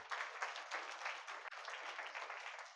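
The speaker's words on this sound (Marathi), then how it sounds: "एकदा त्यासाठी टाळ्या" An audience at a guidance talk on children's futures claps in a steady, continuous round of applause that sounds somewhat distant and soft.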